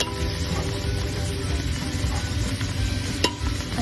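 Onions and sauce frying in a pan for birria, a dense, steady sizzle heard close up with faint stirring and one brief clink near the end; no voices.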